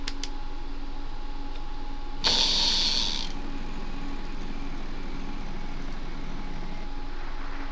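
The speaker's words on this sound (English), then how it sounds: "Arlo, you start to spin the wheel." The prize wheel spins in a Wheel of Fortune plug-and-play TV game, giving a brief burst of rapid ratcheting clicks that rises over a steady electronic hum, then fades back to the hum.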